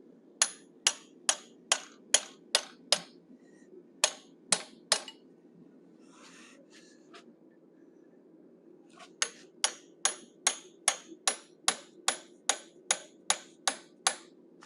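Sharp metallic hammer taps drive a straight cut chisel while forging a cougar head, coming in quick regular runs of about eight strikes, a short pause, then another steady run of a dozen or so close, bright blows.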